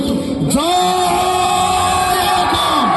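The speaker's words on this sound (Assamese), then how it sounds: "আকৌ এবাৰ সকলোকে জোৰকে জয় অসম দিবলৈ কৈছোঁ।" A large crowd at a rally chants the Assamese slogan 'Joy Aai Asom' together in loud, sustained unison. Voices rise and fall in drawn-out shouts that hold steady throughout.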